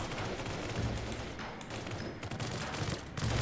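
Steady gunfire from the Roblox Squid Game, a continuous dense burst of shots with low thumping hits running throughout, fairly loud and without any speech.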